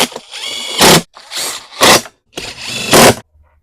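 A ratchet or small power driver sets carburetor bolts on a Craftsman pressure washer, giving four short loud mechanical bursts with brief clicking gaps between, close up and with no talking.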